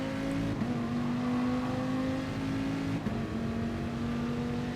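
Race car engines drone steadily in a GT Sport video game race at Fuji, a continuous close engine hum with shifting pitch and no pause or talk.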